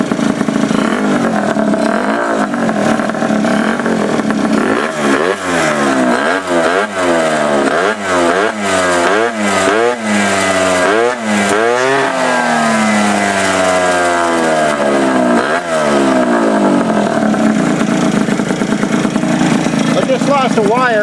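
A Honda Elite 50 scooter's 50cc engine revs repeatedly, its pitch sweeping up and down in quick bursts, then settles into a loud steady buzz nearby.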